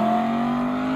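A Porsche GT3 RS sports car accelerates hard at a supercar meet, its engine note loud and close with a steady, rising whine through the whole second.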